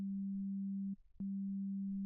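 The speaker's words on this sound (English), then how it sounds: "For this tutorial I have operator playing" A pure sine wave from Ableton's Operator synth hums as a single steady low tone, cutting out briefly in the middle before resuming, clean and alone.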